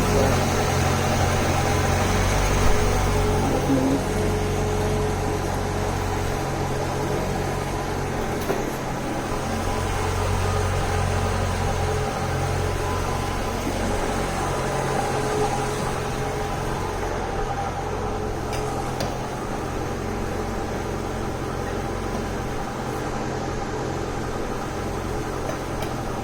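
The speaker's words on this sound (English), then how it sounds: "I don't know why this car is so loud when you first started." A cheap Honda Integra project car idles loudly just after a cold start, a steady close engine drone with a constant low hum and exhaust rumble that holds unchanged throughout, with no talk.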